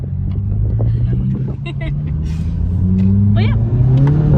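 Volkswagen MK7 GTI fitted with an Integrated Engineering intake accelerating, its low engine rumble rising steadily in pitch from inside the car, with people talking over it.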